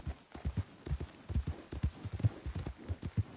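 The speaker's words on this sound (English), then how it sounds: "Remember to rest that horse sometime." Horse hooves clip-clopping in the video game Red Dead Redemption 2, a steady rhythmic run of soft, low thuds heard alone at a moderate distance.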